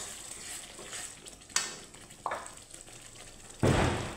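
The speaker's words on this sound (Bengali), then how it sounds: "তো এখানে মশলাটার সাথে আমি ফুলকপি আলু একটু কষিয়ে নিব" Fried cauliflower and potato sautéing in a spice masala in oil, a steady low sizzle broken by a few sharp clatters of the spoon and a loud burst of frying near the end.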